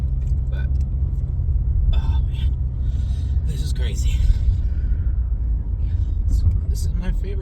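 A van on the road gives a steady low engine and tyre rumble throughout, with faint rattles and knocks over it and people talking inside.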